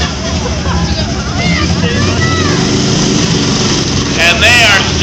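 A car engine roars loud and steady during a night demolition derby consolation heat at a state fair in Maine, with a car straining to turn around. An announcer talks over it throughout.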